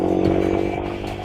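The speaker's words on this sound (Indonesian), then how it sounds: "R9 Misano ini dia tipe suaranya bass halus teman-teman ya, bukan ngebass bulat yang padat gitu" A Yamaha R15 V3 fitted with an R9 Misano aftermarket exhaust burbles briefly in a low, pulsing engine note, loud and close, fading slightly over the short clip.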